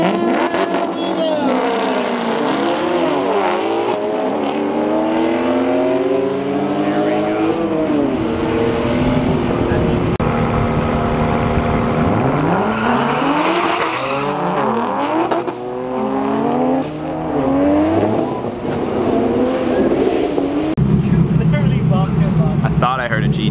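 Cars race down a drag strip at a European car drag event in Southern California, with repeated loud engine revs and gear-shift sweeps as several cars accelerate past close by, and voices are heard under the engines.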